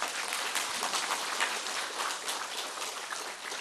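Sustained applause from a church congregation during a Sunday worship service, dense and steady throughout with no pauses, filling the space evenly.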